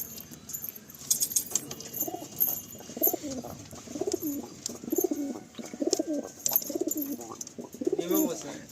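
Paired pigeons in a loft coo repeatedly in low, rhythmic rolling calls close by, with light metallic jingling and faint chirps in the background.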